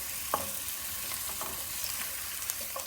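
Chopped onions sauté in a pan as the base for a broccoli-carrot soup, giving a steady close sizzle broken by a few scraping stirs of a spoon, with no voices.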